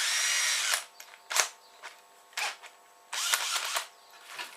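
A power drill with a 3.5 mm bit whirs in several short bursts of varying length, close and fairly loud, with brief pauses between runs.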